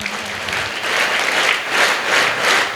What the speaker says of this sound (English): The assembly clap we have to give.